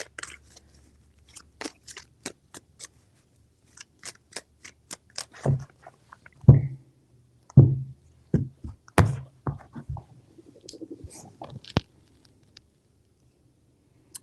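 Tarot cards shuffled by hand in a few short bursts of crisp riffling and tapping, close and fairly quiet, with pauses between them and no talking.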